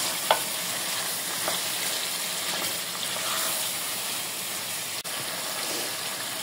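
Mutton curry being stirred in a frying pan makes a continuous close sizzle with scraping and stirring movements. There is no talk.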